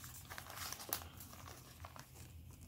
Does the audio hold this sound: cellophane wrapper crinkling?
yes